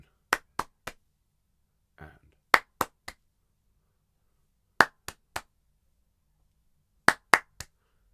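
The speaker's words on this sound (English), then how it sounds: "why don't we start just by clapping the first beat of each of these bars?" Hands clap the first beat of each bar in a singing lesson, crisp sharp claps in groups of three at a steady pulse, separated by silences, with a brief murmur between the first two groups.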